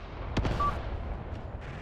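Gunfire aimed at enemy mortar positions in the Mius Front war game: one or two sharp, booming shots near the start with rolling echo, then a low rumble of distant battle.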